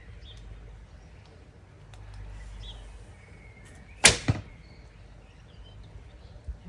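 A single sharp arrow release from a Kaya Black Cat 50 lb bow, a sudden snap with a quick rebound, then quiet with faint outdoor birds.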